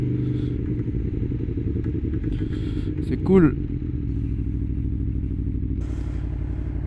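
A motorcycle ridden along a road on a commute in Toulouse gives a steady, close engine drone throughout, with a brief louder clatter midway and a short spoken remark from the rider.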